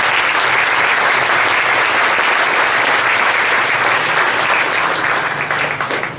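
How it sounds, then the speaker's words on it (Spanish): A church congregation breaks into sustained, dense applause, loud and continuous for several seconds before starting to thin out at the end, with no talk over it. "¿Cuánto le dan un aplauso al Espíritu Santo?"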